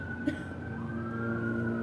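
Emergency vehicle siren wailing outside in the distance, a steady faint tone sustained behind background hum with a brief knock partway through.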